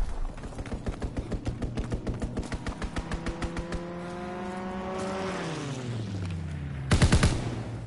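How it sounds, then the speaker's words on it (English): An enemy strafing run in Call of Duty WWII: a long burst of rapid, evenly spaced machine-gun fire, then an aircraft engine sweeping downward in pitch as it passes, ending in a loud crashing burst. "Enemy strafing run incoming."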